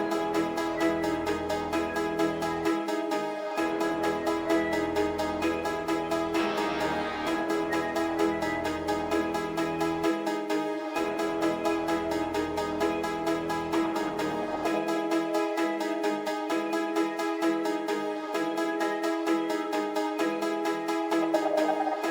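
Dark electronic melody with halftime, reverb, flanger and chorus effects, a dense looping synth line over deep sub bass that drops out briefly, steady and loud throughout.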